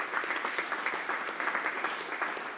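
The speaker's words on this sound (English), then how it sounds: "clap it up for our guests" An event audience claps for its guests, a dense, steady round of applause with fast overlapping hand claps and no voices.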